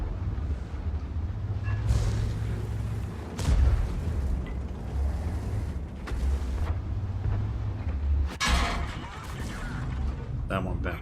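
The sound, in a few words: tank gun shots in the video game World of Tanks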